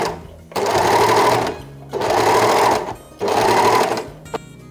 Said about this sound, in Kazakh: Қолғабымызды айналдырып тігіп алдық аверлокпен